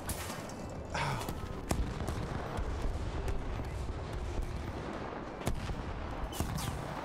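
Tank cannon fire from a Finnish KV-1B heavy tank in War Thunder: a few sharp, heavy booms stand out over a constant battlefield rumble, with scattered distant gunfire in between.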